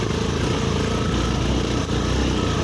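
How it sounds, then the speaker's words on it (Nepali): A motorcycle engine drones steadily and loudly, close by, for the whole stretch while being ridden along a rough road, with no break in the noise. "बाइक चलाउने"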